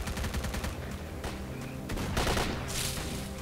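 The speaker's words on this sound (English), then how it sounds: "I don't know what you're shooting at, dude." Rapid bursts of automatic rifle fire from the video game STALKER: Call of Pripyat, a weapon firing 5.45 ammo, with several overlapping volleys and sharp reports filling the whole stretch at steady loudness.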